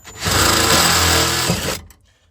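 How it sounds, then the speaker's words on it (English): A power drill whines loudly as it bores through tough metal while fitting a battery relocation kit on a Nissan 240SX, a steady high-pitched grinding that holds for over a second before cutting off. "we actually have to drill through some pretty tough stuff here"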